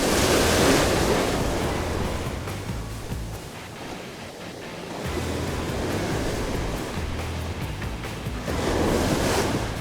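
Steady roar of ocean surf and gusting wind on a shore as the tide rises in rough weather, waves swelling and receding in a continuous loud wash with no voices.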